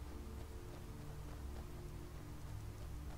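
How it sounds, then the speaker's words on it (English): Steady rain in the video game Skyrim Special Edition patters on a surface with a low continuous rumble underneath, constant and unbroken throughout. "Tut tut, looks like rain."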